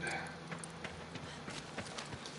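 Hooves of Agro, a horse in the video game Shadow of the Colossus, clip-clopping quietly at a steady walking rhythm over a low ambient game backdrop.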